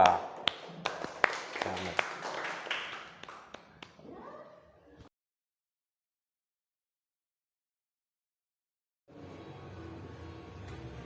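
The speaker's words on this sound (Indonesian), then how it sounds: "mari kita beri aplaus yang meriah untuk kelompok 2" Scattered, uneven clapping from a small classroom group applauding a student team, sharp claps for a few seconds that thin out and stop, followed by silence and then faint background murmur.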